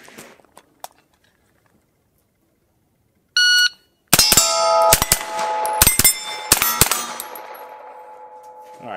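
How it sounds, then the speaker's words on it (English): Rifle fire from a reflex-sighted rifle on a steel-target range, a rapid string of sharp, loud shots each followed by a ringing metallic clang from rounds striking steel plates, after a brief beep, with no talk. "Let's go ahead and put a couple rounds on these targets right here."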